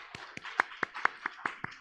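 A short burst of scattered claps from a church congregation during a Sunday worship service in Korea, about a dozen sharp distinct hits with no voices.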